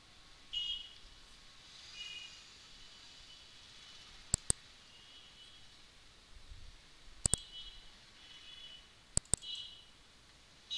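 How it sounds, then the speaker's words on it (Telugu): A computer mouse clicks during a WordPress website tutorial, sharp isolated clicks in close pairs spaced several seconds apart over a quiet background hum, with no speech. "ఇక్కడ సెలెక్ట్ అన్న ఫైల్ ఉంది కదా, క్లిక్ చేయండి."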